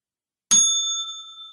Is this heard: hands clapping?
no